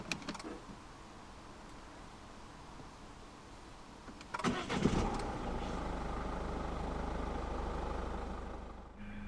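A 2016 Citroën C3 1.6 BlueHDi 75 diesel with a five-speed manual fires up midway with a sharp cranking burst, then settles into a steady, close diesel idle rumble that continues to the end.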